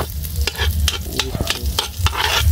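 Garlic stirred in a hot pan while cooking pansit bihon outdoors, a loud scraping, sizzling wash with irregular utensil clatters, close and continuous.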